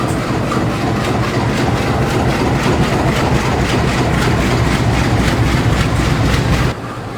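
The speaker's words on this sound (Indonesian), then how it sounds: "ini dia lokomotif dinas kereta api Seribilah Utama kali ini ditarik oleh lokomotif yang sama saat berangkatnya tadi" The Sribilah Utama train, hauled by locomotive CC 201 77 04, rolls steadily near Medan with a loud, continuous rumble and a regular clickety-clack of wheels over rail joints, heard close up until it eases off at the end.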